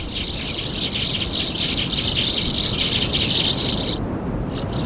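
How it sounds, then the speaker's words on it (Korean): A flock of sparrows gathered in a wintering field chirps continuously, a dense, steady chatter of many overlapping high tweets that cuts off abruptly near the end, set against a broad outdoor rumble with no voices. "참새들은 가을부터 겨울까지 무리를 형성합니다."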